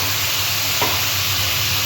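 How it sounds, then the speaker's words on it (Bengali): Steady, close, loud sizzle as a masala of ground ginger-cumin paste, cumin powder and salt sautés in a pan for a mrigal fish curry, a brief stir clicking through the hiss. "তার মশলাটা আমি কষিয়ে নেব।"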